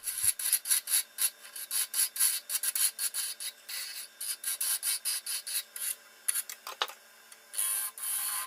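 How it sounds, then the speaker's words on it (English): A roughing gouge cuts a wooden pizza cutter grip spinning on a lathe, giving rapid, rhythmic rasping scrapes that pulse steadily and fairly close, with a short pause near the end. "I started using my roughing gouge to rough out the shape."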